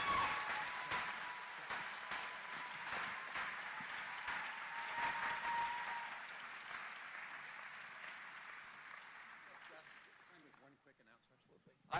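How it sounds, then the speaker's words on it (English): Audience applause at a gubernatorial forum of the Iowa Faith & Freedom Coalition, sustained clapping from a large room that gradually thins and fades toward the end. "Let's give Adam Steen a round of applause."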